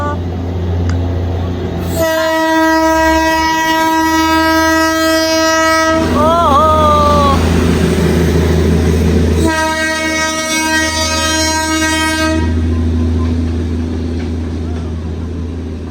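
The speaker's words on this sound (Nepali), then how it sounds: "ए लु ट्रेन आयो है ल दार्जिलिङको ट्रेन" A loud Darjeeling train horn blares in two long sustained blasts with a bending tone between them, over the rumble of the passing train.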